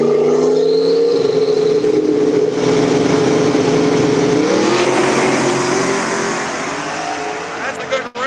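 Race cars in a no-prep drag race launch and accelerate hard, their engines roaring loudly with shifting pitch and some tire squeal. The roar fades toward the end, with an announcer's voice running underneath.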